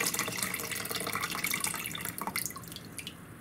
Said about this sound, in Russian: Сливаем воду из всех баночек.